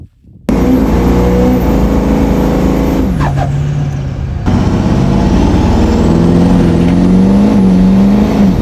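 A built Duramax diesel pickup fitted with an S300 turbo roars loud and close under hard acceleration, its engine note climbing steadily with a brief dip midway before surging on again, no voices.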